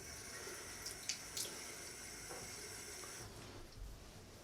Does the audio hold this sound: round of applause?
no